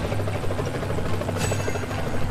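Helicopter in the video game Renegade Ops, a steady loud rotor drone with a low throbbing hum throughout, joined by a brief bright burst midway.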